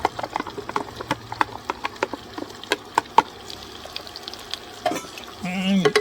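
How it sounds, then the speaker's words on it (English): Onion and potato hitting foaming butter in a pot, a soft sizzle under a run of sharp clicks and scrapes from stirring, ending in a louder, rising burst of frying with no talk. "once the butter's foaming, a bit like that, in with the onion and potato"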